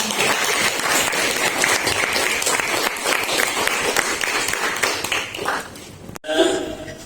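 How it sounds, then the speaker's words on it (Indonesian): Applause from a group of classmates after an Islamic sermon practice, dense and steady clapping that thins out and fades near the end, followed by a brief moment of a voice resuming. "Kita beri tepuk tangan dulu teman-teman"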